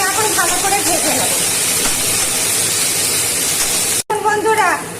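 Beans, carrots, peas and cashews sizzle loudly in a hot pan for fried rice, a steady broadband hiss that fills the whole stretch, with a voice talking over it and a brief cut near the end.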